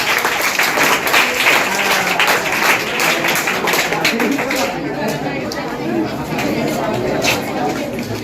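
A crowd claps steadily throughout at a children's general knowledge competition, a dense wash of applause mixed with children's chatter, fairly loud and continuous.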